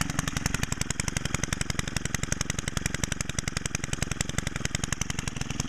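A small four-mix trimmer or blower engine runs steadily, freshly started and smoky with unadjusted valves, giving off a fast, even, rattling pulse at close range with no voices.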